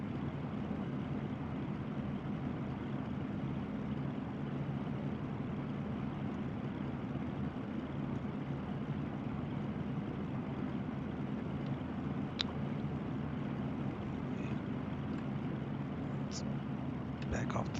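The twin engines of a Cessna 310 idle in the X-Plane 11 flight simulator on a ground warm-up, a steady low drone that holds even and unbroken, with only faint clicks near the end.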